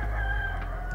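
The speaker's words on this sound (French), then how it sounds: "Il y a un canard." A duck calls once, a short nasal squawk over a steady low background hum, close and fairly clear.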